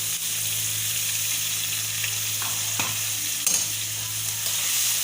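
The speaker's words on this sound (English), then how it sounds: "And just fry for about 5 minutes, not more than that" Ground chutney with curry leaves frying in a pan over low flame for chitranna, a steady, close crackling sizzle with a few soft stirring scrapes partway through.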